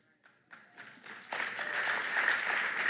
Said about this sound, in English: I'm glad they clapped